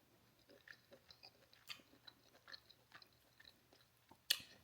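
Close, quiet chewing of a lobster tail dipped in cocktail sauce, with soft irregular bites and mouth sounds ending in one sharper crunchy click, no talking.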